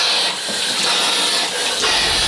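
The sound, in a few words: shower water running in a hotel bathroom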